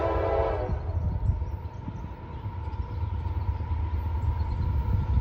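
A long I-141 freight train on the old B&O line passes close by, its horn blaring loudly at the start over a steady, heavy rumble of rolling cars and rail noise.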